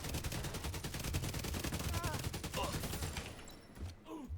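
Rapid automatic gunfire from The Division 2 rattles in a dense, continuous volley that thins out toward the end. The level is fairly quiet overall, and a faint voice sounds briefly underneath.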